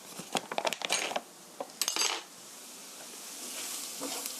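Flour stir-fried in a pan as the base for a tomato sauce for fusilli, heard as a quick run of close metallic scrapes and clinks of a utensil against the pan, then a soft steady sizzle.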